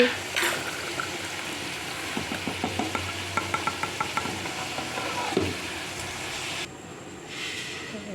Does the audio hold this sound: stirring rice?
yes